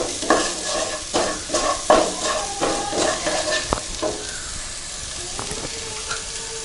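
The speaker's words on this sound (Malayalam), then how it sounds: "എന്നിട്ട് നന്നായി വഴറ്റുക." Spices being sautéed in a pan for Kerala chicken roast, with salt and fennel powder stirred through: a steady close sizzle broken by repeated scraping stirs, with no talk.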